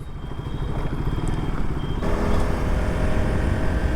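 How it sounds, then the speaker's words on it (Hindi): A motorcycle rides along a road at about 70 km/h, its engine hum steady and close under a constant rush of wind. "अब बाइक की स्पीड है ऑलमोस्ट 70"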